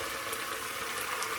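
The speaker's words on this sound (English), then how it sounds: "they're bubbling away here" Pasta sauce loosened with starchy pasta water bubbling and sizzling in a pan, a soft continuous hiss with faint popping bubbles, quiet and close, no talking.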